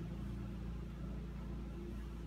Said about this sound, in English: Hopefully you guys can't hear that giant tractor or lawnmower.